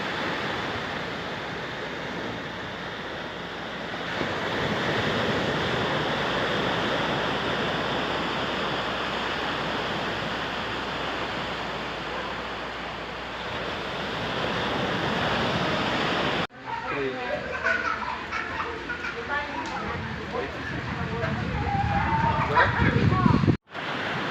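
Steady roar of strong sea surf washing onto the shore, broad and loud, continuing throughout with a brief cut near the end; no voices.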